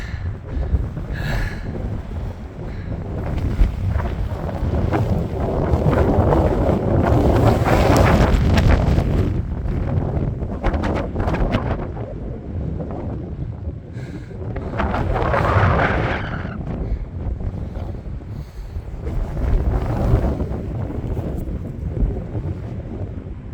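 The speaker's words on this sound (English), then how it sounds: "It's cold and windy. You can probably hear the wind." Strong cold wind gusts across an exposed high-mountain route near an alpine tarn, roaring and buffeting the microphone continuously, swelling louder at times and easing off, with no voices.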